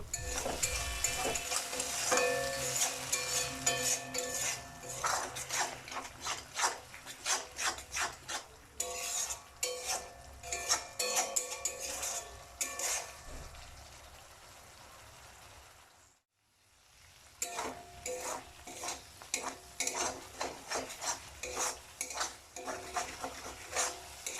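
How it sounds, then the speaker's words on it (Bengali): A spatula scrapes and stirs a cumin and coriander spice paste with tomato and a little added water in a pan, a busy rasping, clattering rhythm that runs continuously, stops briefly near the end, then resumes. "মশলাটা ভালো করে কষার জন্য এতে আমরা অল্প একটু করে জল দেব ও ভালোভাবে নাড়তে থাকব।"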